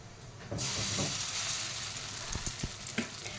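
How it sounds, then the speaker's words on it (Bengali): Ground lentil batter (dal paste) spooned into a hot pan of oil, breaking into a bright, steady sizzle after a brief quiet start, with a few soft stirring knocks, close and without talk. "এবার আমি আস্তে আস্তে ডাল বাটাটা দিয়ে দেবো।"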